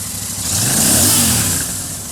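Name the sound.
Royal Enfield motorcycle engine revving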